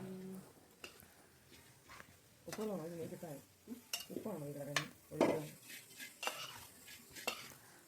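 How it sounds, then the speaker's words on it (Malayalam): A spoon stirs lime pickle mixed with gooseberry, salt, sesame oil, mustard seeds, garlic and ginger in a pan, giving soft scraping clinks and light sizzling, faint and intermittent, with a voice speaking over parts. "നെല്ലിക്കയും ഉപ്പും നല്ലെണ്ണയും കടുകും അതുപോലെ തന്നെ വെളുത്തുള്ളി ഇഞ്ചി അതെല്ലാം കൂടെ ചേർന്ന് വരത്തക്ക വിധം നല്ലതുപോലെ ഇളക്കി കൊടുക്കണം കേട്ടോ."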